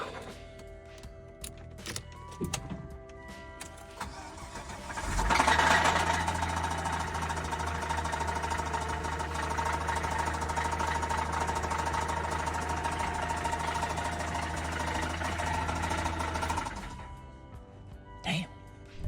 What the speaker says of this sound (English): Customer states their engine is making a ticking sound